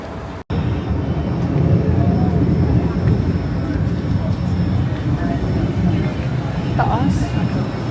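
A Hong Kong train rolls along with a steady low rumble and broad rushing noise filling the carriage, loud and close, with a brief dropout near the start and a faint squeal later.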